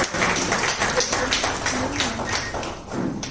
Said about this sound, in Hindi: एक बार तालियां बजाकर भाई के साथ